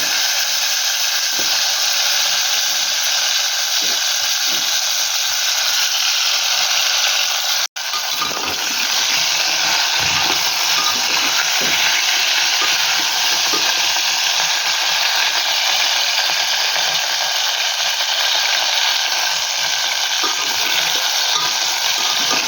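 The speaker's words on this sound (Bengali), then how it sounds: "তরকারিটা একটু ভালো করে ভেজে নেব" Potatoes and pumpkin fry in a pan for a vegetarian dish, filling the clip with a loud, continuous close-up sizzle that stays even throughout apart from one momentary break partway in; nobody speaks.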